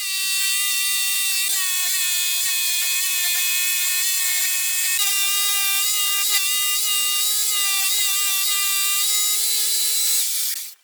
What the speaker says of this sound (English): Now I'm going to cut the round piece that will be placed in the center of the tabletop.